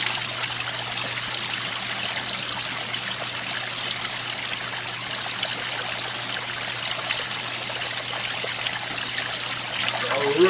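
Tap water pours steadily into a jug while an aquarium water change is underway, a continuous splashing trickle that holds level and near for the whole stretch with no talk over it.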